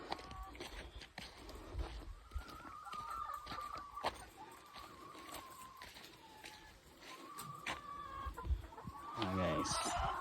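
Hens in a small backyard chicken coop cluck repeatedly in short, drawn-out calls at moderate distance, with a faint rustle of farm ambience around them.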